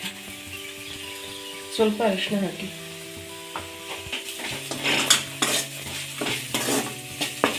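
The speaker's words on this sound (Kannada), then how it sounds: "ಈ ಟೈಮಲ್ಲಿ ನೀಟಾಗಿ ಎಲ್ಲ ಬೆಂಡೆಕಾಯಿ ಮಿಕ್ಸ್ ಮಾಡಿ" Okra frying in a pan with chilli powder is stirred, a steady sizzle broken by clinking spoon-on-pan scrapes and knocks, with someone talking over it.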